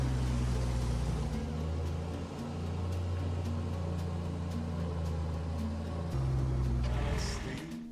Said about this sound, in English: And here we have a tractor running on wood gas.